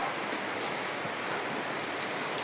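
Rain pours off a roof at a building site, a dense, steady patter and splash of water running without pause, close by and fairly loud.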